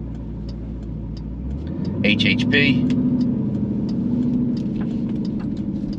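A Jeep Trackhawk with a catback exhaust rolls into a parking lot, its engine note rising and holding a steady low rumble while a voice talks over it.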